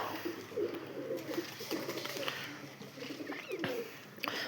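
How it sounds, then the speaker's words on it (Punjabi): Pigeons coo on and off around a net set up for them, with light wing flutters and soft rustling against steady outdoor background noise; no one speaks. "ਆਪਣਾ ਜਾਲ ਲਾਇਆ ਸੀ ਕਬੂਤਰ ਵਿੱਚ ਉੱਡਦੇ ਫਿਰਦੇ ਬਹਿੰਦੇ"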